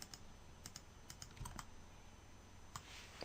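Keyboard keys tapped at a computer while working in 3D furniture-making software for IMVU, scattered light clicks, several quick presses close up over a faint background hiss, with no talking.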